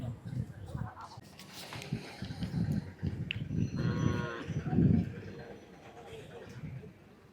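Cattle at a livestock market moo in a couple of long, low calls amid the crowd murmur, with people talking nearby throughout.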